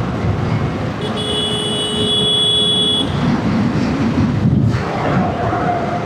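A Konkan Railway train passes in the morning beside a highway, a steady rumbling roll with a sustained high whine partway through, recorded outdoors from a moving vantage.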